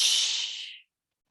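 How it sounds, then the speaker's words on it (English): A forceful breathy exhale pushed out during a Bikram sit-up in a hot yoga class, a single airy rush that fades away within a second, close to the mic with no talking. "you do a double exhale as you reach for your toes"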